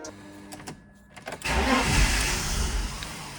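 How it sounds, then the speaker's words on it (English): A BMW E46 drift car cranks briefly and then catches, its engine rising into a loud, rough, steady run close by with no talking. "We're gonna start this car and let it run until it doesn't start at all anymore."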